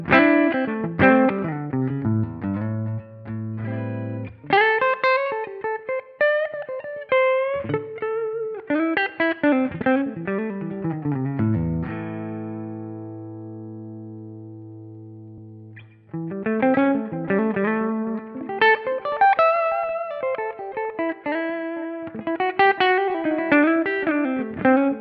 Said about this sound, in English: little bit of delay and just a dab of this natural reverb here, so things aren't so dry.